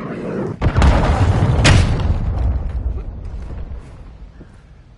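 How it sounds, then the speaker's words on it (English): A cruise missile detonates in a video game with a loud, deep boom that rumbles and slowly fades over several seconds, close and heavy. "Hostiles launched a cruise missile."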